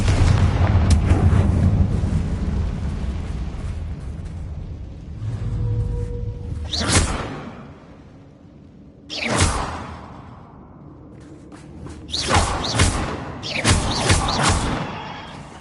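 Fire spell blasts cast in a Hogwarts wizarding video game: several loud whooshing bursts with thudding, explosive impacts, spaced apart with quieter game ambience between them, no talk.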